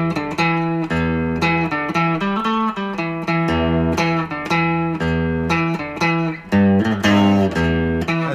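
A guitar plays a song's riff with steady, loud, repeated picked notes and a distorted tone, close and alone, with no talking.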